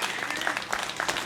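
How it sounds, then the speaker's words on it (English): Applause from a crowd at a political rally honouring the speakers, dense steady clapping close and loud, filling the short moment without pause. "Give us a round of applause for all of the speakers."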